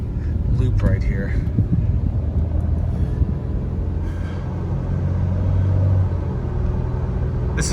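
A 2002 Toyota 4Runner Limited with about 215,000 miles drives a short loop, giving a steady, close engine and road rumble that holds throughout the ride.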